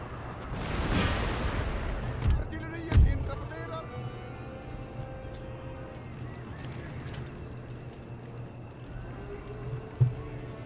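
Mortars fire during a siege in the strategy game Empire: Total War, with a few muffled booms and thumps scattered over a rumbling battlefield backdrop, fairly distant.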